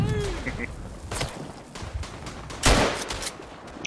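Rifle gunshots in the First World War shooter game Verdun, a few sharp reports spread across a noisy battlefield background, with one loud close shot near the end.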